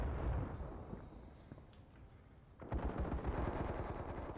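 Rapid gunfire rattles through a video game shootout, loud bursts at first, easing off midway, then a renewed heavy volley with low booms; nobody talks.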